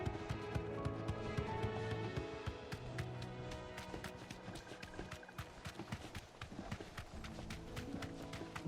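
A chocobo running in the video game Final Fantasy XVI, rapid rhythmic clip-clop footfalls moving steadily over game music and ambience, faint and continuous.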